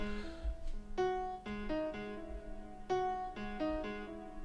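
Eventide H90 effects pedal on its first hot switch setting, a clean plucked instrument playing a slow sequence of sustained, ringing notes, fairly quiet and heard alone.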